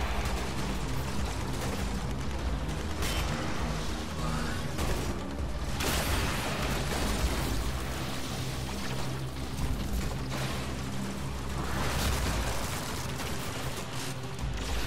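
Latron Prime laser rifle gunfire in the Warframe video game, a dense continuous clatter of shots and mechanical effects, loud and busy throughout with no talking.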